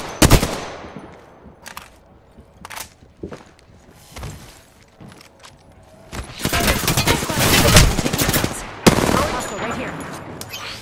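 Bursts of automatic and single-shot gunfire in the Apex Legends battle royale shooter, sharp and loud, in scattered volleys that build into a dense sustained barrage near the end.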